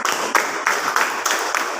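A group of children in a classroom clap their hands together in short, rhythmic bursts, five sharp claps spaced roughly evenly, close and moderately loud.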